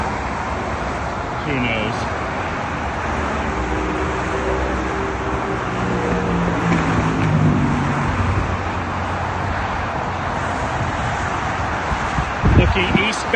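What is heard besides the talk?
traffic on the 101 freeway heard from pedestrian overpass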